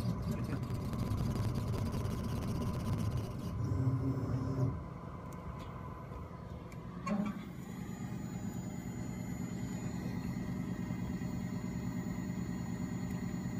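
A laser cutter's fume extraction fan runs during engraving, producing a steady low roaring rumble throughout, briefly louder early on, with a small thump around the middle and no talk.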